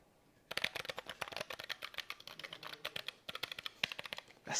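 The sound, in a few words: typing on Keychron K9 mechanical keyboard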